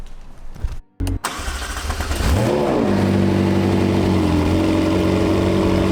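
A 2020 McLaren 720S Spider cold-starts up close: a starter whir, then the engine catches with a loud rising flare and settles into a steady, elevated high idle.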